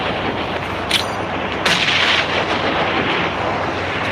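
In PUBG Mobile gameplay, heavy booming gunfire and explosions roll out as a dense, loud barrage, with a couple of sharper bursts near the start and middle.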